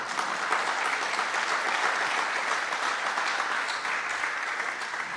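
A church congregation claps together for several seconds, a dense, loud, even roar of many hands with no talking over it.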